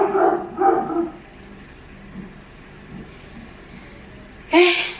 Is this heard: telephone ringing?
no